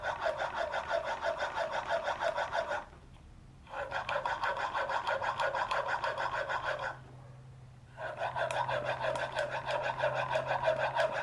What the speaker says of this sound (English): I don't have to do extra passes on the stone here because all I'm doing is honing it.